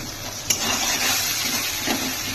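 Turmeric hitting hot oil in a pan gives a steady, loud sizzling hiss with a small splatter pop near the start, a continuous frying crackle that runs throughout.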